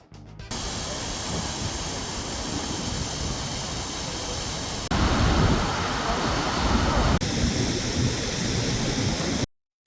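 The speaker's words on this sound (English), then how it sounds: "Kirkjufellsfoss, the waterfall, itself is small but stunning. A series of gentle cascades flowing from the Kirkjufellsa River" Kirkjufellsfoss, a small waterfall of gentle cascades on the Kirkjufellsa River in Iceland's Snæfellsnes Peninsula, roars as a loud, steady broadband rush of falling water throughout, with a brief change in tone midway and no voices.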